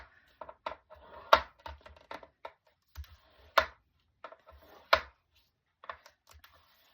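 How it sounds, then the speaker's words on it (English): Sharp tapping and scraping as a scoring tool presses fold lines into card stock at half-inch intervals for a fan-fold card, a series of close, irregular clicks of uneven loudness. "I'm now going to score this down every ½ an inch"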